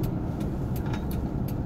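A car engine hums steadily from inside the cabin while driving, a continuous low rumble with road noise, close and even throughout.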